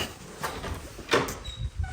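An interior door in a Washington DC house opens with a short creak and a couple of soft thuds and clicks, close by and fairly quiet, no voices.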